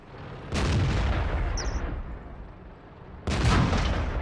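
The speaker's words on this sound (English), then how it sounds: "There she takes the first hit from the Ferdinand." A Ferdinand tank destroyer's shell strikes a heavy IS-8 tank in a tank battle video game: two loud, booming impacts about three seconds apart, each with a rumbling decay.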